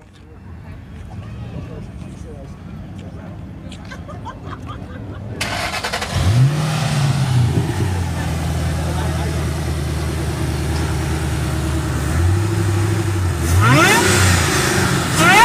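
A Ford Mustang's engine rumbles at idle, then jumps into loud, sustained revving with a high whine riding over the note, with a second rev burst near the end. People talk in the background before the engine takes over.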